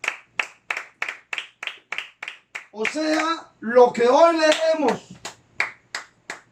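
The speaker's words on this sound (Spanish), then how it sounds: "Denle un aplauso a mi Señor Jesucristo" Church congregation clapping in a steady rhythmic beat, crisp and close, briefly interrupted midway by a person talking before the regular claps resume.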